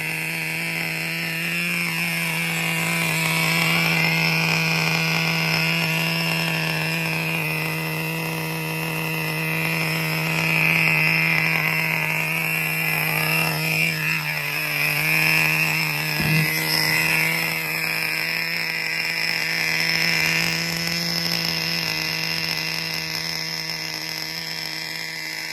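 A Traxxas 4Tec RC car's nitro engine with an aftermarket exhaust runs continuously, a high buzzing whine holding steady with small rises and dips in pitch, loud and close with no talking.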